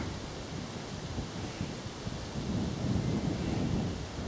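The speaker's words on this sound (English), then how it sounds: "Wind's picking up now, indicating that rain could well be with us soon." Steady wind roars through English woodland on a walk from Wendover to Great Missenden, a broad, dense rush that swells louder in the second half, with no talk.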